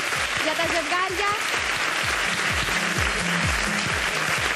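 A studio audience applauds steadily for dancing couples on a televised dance competition, continuous clapping throughout with a voice talking over it.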